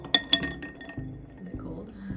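Ice cubes knocking and clinking against the inside of a glass as they are moved around, a couple of sharp close clinks and then softer rattles, with a voice nearby.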